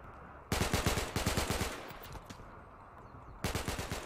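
Rimworld firefight: two loud bursts of rapid machine-gun fire, close and rattling, separated by a quieter pause with a few scattered shots.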